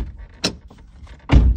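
A car door of a Toyota Highlander thumps shut twice, a lighter click first and then a heavier, closer slam, in a quiet interior.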